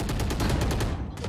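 Rapid automatic gunfire rattles in a first-person shooter game, a tight burst of evenly spaced shots for about a second, loud and close before cutting off abruptly.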